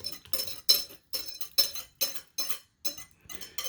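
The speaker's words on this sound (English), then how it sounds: "So now I'm about to mix my wet ingredients in with my dry ingredients." Wet ingredients being mixed by hand into dry ingredients for a triple chocolate fudge cake, heard as a steady series of about nine rhythmic scraping clinks of utensil against bowl, close and clear with no talking.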